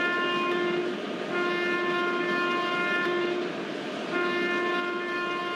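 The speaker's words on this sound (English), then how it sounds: "Enjoy the beautiful cab ride of AJJ WAC 7 locomotive." Cab ride aboard a brand-new AJJ WAC 7 electric locomotive under way, with a loud, steady running drone and sustained tonal hum filling the whole stretch, no voices.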